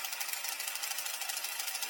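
Sewing machine straight-stitching a pocket lining to a skirt, a fast, even mechanical chatter that runs steadily and close for the whole stretch, with no talking.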